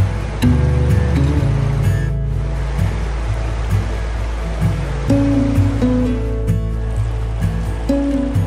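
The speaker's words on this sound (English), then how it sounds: "This is the Kings Island Waterfall" Water pours steadily over the Kings Island Waterfall beside a trail in the Cincinnati area, a loud, continuous rushing roar close by with no voices.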